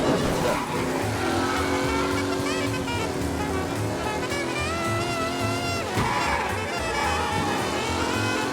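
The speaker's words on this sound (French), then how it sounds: "une voiture de course fonce dans la ville" A race car tears through city streets in the Mafia video game, its engine roaring loudly and steadily with rising and falling pitch and occasional tire squeals.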